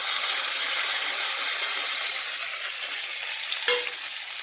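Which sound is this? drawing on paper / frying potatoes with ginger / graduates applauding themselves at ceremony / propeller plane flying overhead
frying potatoes with ginger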